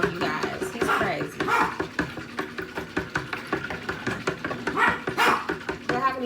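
A pet dog barks and yips repeatedly in a home kitchen during cooking, with sharp, close barks that come in an irregular run, mixed with a person talking.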